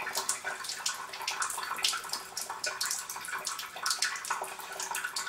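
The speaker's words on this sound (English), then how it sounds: "I've got the flow nice and slow here, and I'll just collect a little bit of the acid water" Acid water runs slowly from a Chanson Miracle PL-B702 water ionizer into a collecting container, a steady, quiet splashing trickle with no talk.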